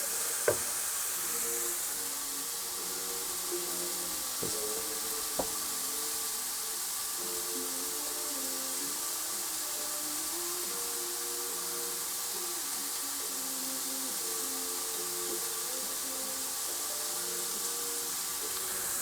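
Mushroom orzo frying in a pan inside a Bailey Discovery D4-4 caravan, a steady bright sizzle and hiss running continuously, with a couple of faint knocks of utensil on pan and a low hum underneath.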